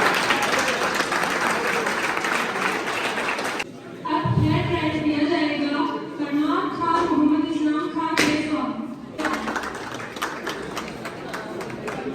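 Loud applause for prize winners at an education centre's computer exam event, with dense clapping at the start and end and a stretch of voices and movement in between.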